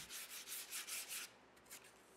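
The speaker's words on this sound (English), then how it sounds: "Then I give it a sanding and all the edges get eased over." Sandpaper rubbed along the edges of a wooden puzzle piece gives a run of six quick, rhythmic scratching strokes, then a couple of fainter ones, close and quiet with no talk.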